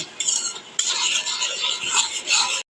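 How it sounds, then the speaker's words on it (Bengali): Spice paste of poppy seed and black pepper with salt being stir-fried in a pan, a spatula scraping and clattering continuously over a soft sizzle for a few seconds, close and fairly loud. "ভালো করে মশলাটা কষিয়ে নেব"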